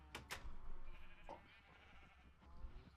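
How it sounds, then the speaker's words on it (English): Sheep bleat in a Minecraft-style game world, several short, fairly faint bleats scattered across the moment over a low background hum. "Okay, okay, sheep."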